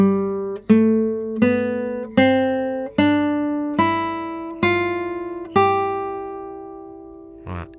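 Seven single plucked classical guitar notes in first position, one after another at an even pace, each ringing out clearly and fading before the next.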